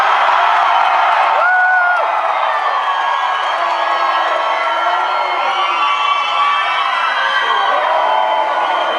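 A concert crowd cheers and whoops loudly for about nine seconds, a dense roar of voices with a few high shouts rising over it.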